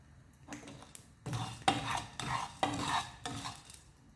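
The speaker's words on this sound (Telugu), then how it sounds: "ధనియాలు వేగాయి కాబట్టి జీలకర్రను కూడా వేయించుకుందాం." Cumin seeds roasting in a dry pan after coriander seeds, stirred in repeated scraping strokes with soft crackle and clinks of a utensil on metal, close and fairly quiet.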